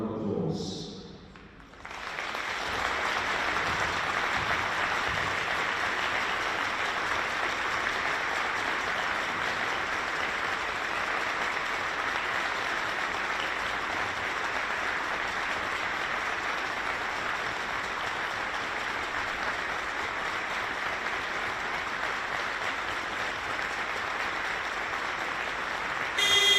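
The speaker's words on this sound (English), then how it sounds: "we're going to acknowledge her with a 24-second round of applause" Audience applause fills a women's basketball playoff final between Manchester Mystics II and Sheffield Hatters II, rising quickly into a steady, sustained round of clapping that holds evenly for over twenty seconds with no talk over it.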